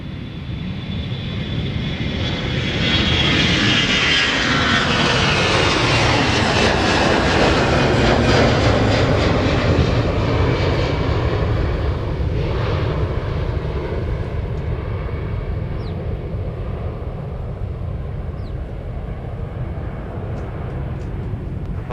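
A Delta airliner roars down the runway on takeoff at Minneapolis–St. Paul airport, with loud broadband jet noise building over the first few seconds, holding strong, then slowly easing as it climbs away. No talking is heard.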